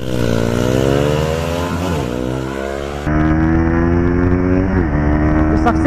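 A Honda CBR150R and a Yamaha R15 V4 accelerate hard on a highway, loud close engines climbing through the gears with one distinct gear change, their rising whine sustained throughout.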